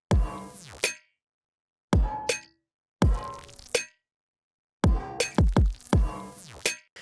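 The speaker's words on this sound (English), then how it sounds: "It's got that like really gnarly metallic room noise baked into those kicks. It's got that like almost bell snare" A hyperpop drum loop with distorted kicks and a metallic, bell-like snare plays in clipped, punchy bars separated by abrupt silences. Clanging hits ring out over booming low thumps.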